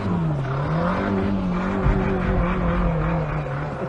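A car engine failing during an endurance test, with a steady loud droning hum that wavers in pitch and a rough knocking thump near the middle, close and continuous with no talk.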